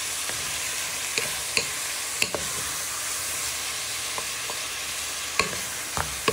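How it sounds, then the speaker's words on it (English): Onions and pork sizzle in a frying pan as a spoon stirs them, a continuous close hiss broken by repeated sharp scrapes and clinks against the pan, with no talking. "you want to give that a good stir in"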